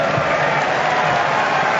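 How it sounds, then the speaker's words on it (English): Football crowd at a Wellington Phoenix match in the Hyundai A-League against Central Coast, a steady dense roar of cheering and applause filling the stadium without a break. "The crowd are urging the Phoenix on"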